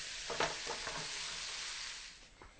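Bread slices in olive oil toast in a hot pan with a gentle, steady sizzle. A few soft scrapes or taps come near the start, and no one speaks.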